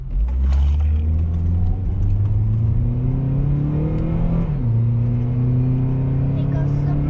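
A 2009 Acura TSX engine revs up with rising pitch, drops briefly as it shifts gear, then climbs again, loud and close; the engine has a noise in the motor.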